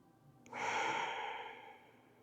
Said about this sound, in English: Just take some more nice deep breaths.